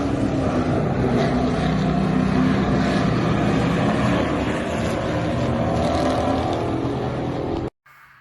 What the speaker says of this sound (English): Let's watch some cars racing around a track